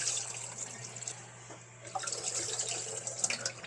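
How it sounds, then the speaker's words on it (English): Tap water runs steadily over shiitake mushrooms being rinsed in a sink, a close, continuous hiss and splash that dips briefly in the middle before resuming fuller, with a faint low hum underneath. "I could probably go ahead and rinse these"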